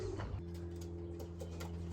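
A racing pigeon named White Lightning gives a low, soft coo, near and fairly faint over a steady hum, with no talking.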